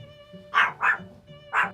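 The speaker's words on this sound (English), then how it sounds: "Are you done barking?" A dog gives three short barks in a quick pair followed by a single one, fairly close, over a low steady background hum.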